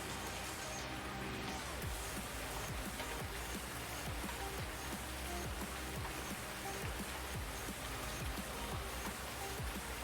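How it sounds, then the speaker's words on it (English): Heavy rain in Farming Simulator 19 during mid-spring on a Sussex farm, a dense, constant hiss of drops pattering on surfaces, loud and unbroken throughout. "That rain is heavy."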